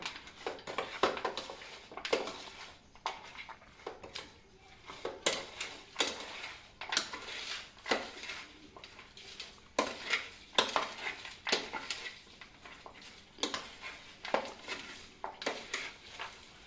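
Farali bhel ingredients tossed and mixed in a bowl, close repeated scraping, rustling and clinking of a spoon against the bowl in uneven bursts, with no voices.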